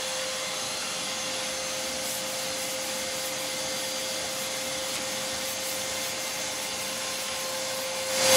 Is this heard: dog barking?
no